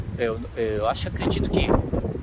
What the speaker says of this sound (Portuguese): Eu sei que está ventando muito